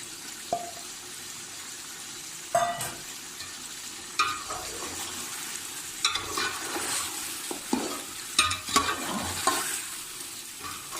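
Masala frying and being stirred with chicken for nahari, a continuous low sizzle with scattered scraping and clinking strokes of a spoon against the pan, close and without speech.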